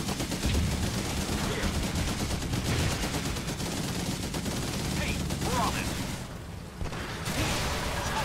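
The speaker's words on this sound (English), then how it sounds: "Our troops are under fire." Battle gunfire in the Blitzkrieg 3 strategy game: dense, continuous bursts of rifle and machine-gun fire crackle without pause, loud and layered, with faint distant booms mixed in.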